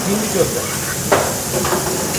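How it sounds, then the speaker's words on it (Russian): Steady sizzling hiss of French fries frying in hot oil at a Turkish all-inclusive resort buffet, with faint clinks and a stir, under a busy background. "здесь жарят картошку фри"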